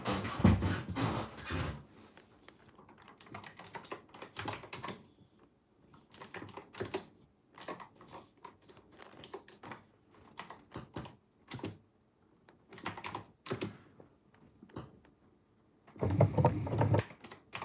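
Typing on a computer keyboard during a PC build, bursts of quick close clicking keystrokes separated by short quiet pauses, with no voices.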